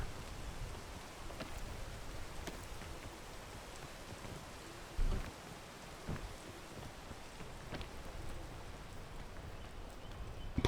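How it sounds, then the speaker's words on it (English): Rain in the survival climbing video game PEAK, a soft, steady patter with scattered louder drops and a brief low thump midway, faint and continuous with no voices. "No, the rain! I feel it on my skin."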